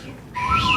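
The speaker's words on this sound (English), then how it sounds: "Want to do that whistle one more time?" A person whistles a clear, brief tone that starts after a short pause and holds steady to the end, close and fairly loud.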